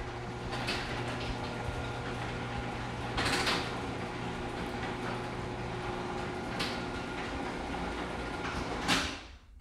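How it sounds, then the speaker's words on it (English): A residential garage door closes with a long, steady mechanical rumble and hum, punctuated by a few creaks and clunks, ending in a louder thud as it seats. "So here's what happens when we close the garage door."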